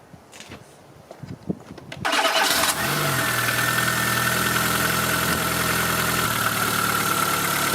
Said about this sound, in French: Donc là le moteur il tourne.